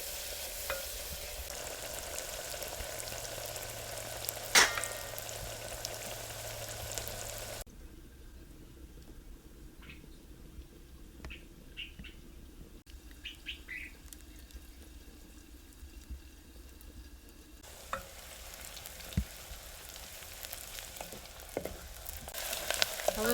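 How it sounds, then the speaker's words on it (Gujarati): Onions frying in oil for a dal vadi curry, a soft steady sizzle with occasional stirring scrapes and a brief water splash, quiet and close with no one speaking. "તો ડુંગળી આપણે મસ્ત લાલ થઈ ગઈ છે"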